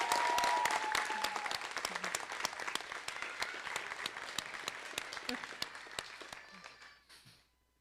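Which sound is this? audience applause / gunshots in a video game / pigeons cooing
audience applause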